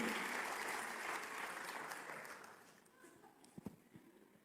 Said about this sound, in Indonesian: Beri tepuk tangan yang luar.